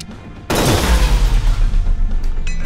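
A turret in SteamWorld Heist opens fire after half a second of quiet: a loud burst of rapid, rumbling shots with a heavy booming low end that keeps pounding to the end.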